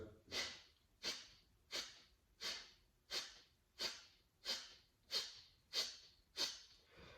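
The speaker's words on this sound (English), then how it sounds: "So it's going to be a breath in, and then there's going to be lots of little small exhales" Ten short, forceful exhales through the nose during a yoga breathing practice, evenly spaced about two-thirds of a second apart, close and fairly quiet with no talking.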